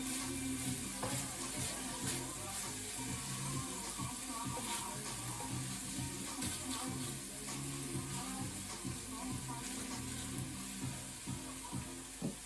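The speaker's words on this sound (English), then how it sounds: "You can hear the sizzling sound." Big prawns frying in oil in a pan, a steady close crackling sizzle that runs unbroken throughout with small pops, no voices.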